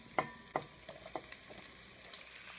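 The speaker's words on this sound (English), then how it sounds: "you're going to take your onions, your leeks, and your garlic and you're going to place them in the warm olive oil" Onions, leeks and garlic frying in warm olive oil, with a faint steady sizzle, two sharp clinks of a utensil near the start and lighter stirring scrapes after, no voices.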